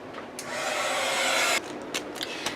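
A heat gun blows steadily over mixed-media artwork, a loud airy whir that lasts just over a second before cutting off, followed by a few soft handling knocks.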